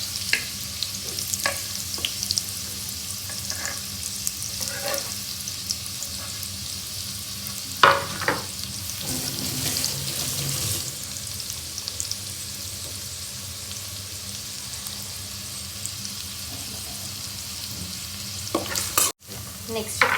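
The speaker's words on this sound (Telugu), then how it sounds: "బాగా హీట్ అయిన తర్వాత అందులో ఆనియన్స్ వేసుకుందాం." Onions frying in hot oil for a chicken semiya dum biryani, a steady close sizzle with intermittent stirring scrapes and clinks over twenty seconds, with no talking.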